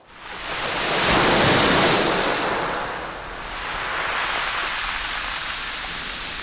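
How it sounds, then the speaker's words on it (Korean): Waves washing over a pebble beach of smooth round stones, a loud, close rush that swells, eases off, then rises again into a sustained hiss of water draining through the pebbles, with no voices. "몽돌 해수욕장에 파도 치는 소리."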